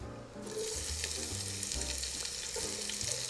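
Chopped scallions frying in a skillet where chicken has been cooking, giving a steady close sizzle with light stirring clatter, no talk.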